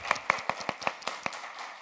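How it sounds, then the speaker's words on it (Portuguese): Welcoming applause for a speaker at a Latin American academic talk on urban landscape ecology, heard as a short run of distinct, fairly close claps, thin and spaced out like only a few people clapping. "démosle un aplauso de bienvenida a Sueli"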